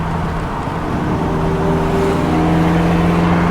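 A car engine drones steadily and loud, rising slowly in pitch as it accelerates at high speed in the upper gears.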